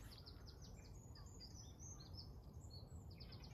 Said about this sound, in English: With a few birds chirping